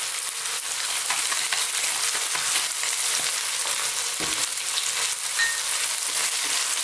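Pieces of lamb or mutton fry in a pan for a curry while being stirred constantly, a loud, dense and even sizzle that continues close up without any talk.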